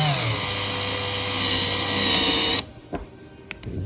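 A Saker cordless drill whirs loudly and steadily for a few seconds while its chuck is tightened, then stops abruptly, leaving a few faint clicks and light handling sounds.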